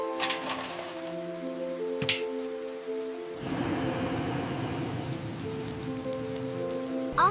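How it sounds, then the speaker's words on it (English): Steady rain falls on a rainy day around a mobile home, a soft continuous patter that swells and grows denser partway through, with tonal music or hum running underneath and no talk. "Look at the rain, it's beautiful."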